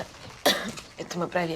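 A single sharp, explosive sneeze bursts out close by in a Russian-speaking setting, sandwiched between short stretches of speech.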